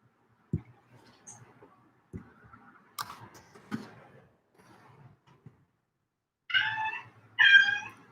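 A cat meows twice near the end, close and fairly loud, after a stretch of sparse clicks and soft taps in an otherwise quiet room, with no talk.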